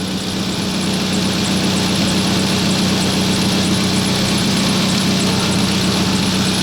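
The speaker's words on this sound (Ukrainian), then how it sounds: "став двигун працювати нормально рівненько" A Nissan Primera engine idles steadily and smoothly at close range, a constant low hum with a faint higher whine, no voices.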